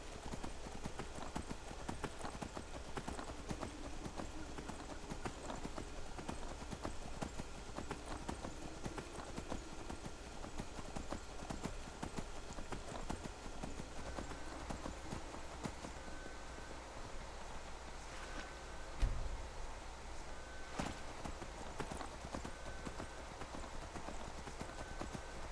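Rapid, rhythmic hoofbeats of a galloping horse in the video game Skyrim, continuous and fairly quiet, with a brief louder thump partway through.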